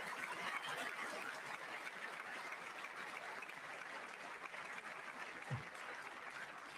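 Applause from a political audience for a call to pass the Stop Insider Trading Act, a steady, faint wash of clapping held throughout, heard from a distance.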